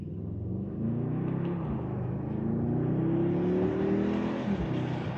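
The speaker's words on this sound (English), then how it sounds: "it really only pops when you have the exhaust in Sport Plus on Dynamic Select" The exhaust of a 2026 Mercedes GLS 63 AMG revs in Sport Plus mode, a deep rumbling drone climbing and holding steady at close range, with no talking over it.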